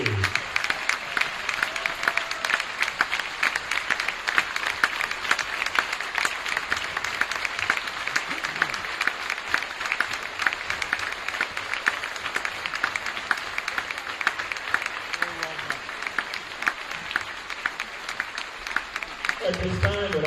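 A crowd applauds steadily at a high school basketball 1,000-point ceremony in a gym, a dense, sustained wash of clapping lasting the whole stretch, with a brief voice near the end.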